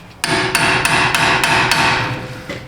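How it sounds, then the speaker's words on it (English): An impact driver cracks loose the brake rotor screws on a car, hammering in a rapid series of about six sharp, loud close impacts over a continuous mechanical whir. "I like to crack them loose with an impact driver first and foremost."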